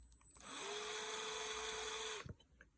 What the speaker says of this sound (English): I'm going to put my drill on that little spot and very slowly just drill